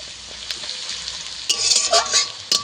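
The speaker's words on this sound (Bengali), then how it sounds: "পেঁয়াজটাকে লাল করে ভেজে নেব লবণ দিয়ে দেবো" Onions fry in oil with salt, a steady low sizzle under stirring that grows into louder, busier scraping and crackling partway through, close by.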